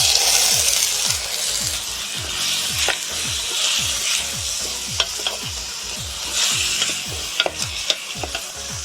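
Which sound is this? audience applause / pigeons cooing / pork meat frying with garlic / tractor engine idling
pork meat frying with garlic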